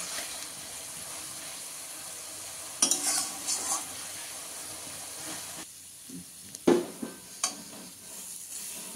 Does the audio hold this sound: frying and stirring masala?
yes